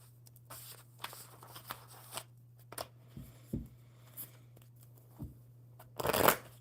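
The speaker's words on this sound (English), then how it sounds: "one more good shuffle" Playing cards are shuffled and handled at a table with soft riffling and tapping, ending in a louder, fuller riffle burst, with a steady low hum in the background and no talk.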